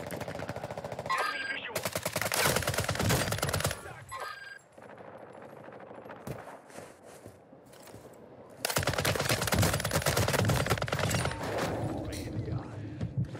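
Rapid automatic gunfire from a Warzone match on Ashika Island, loud and close, in long sustained bursts broken by a quieter gap, with a voice speaking over the shooting.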